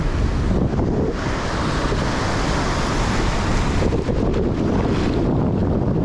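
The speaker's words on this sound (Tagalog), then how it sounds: "Galit na yung alon." Rough sea waves crashing continuously while fishing, loud and close, with heavy wind buffeting the microphone.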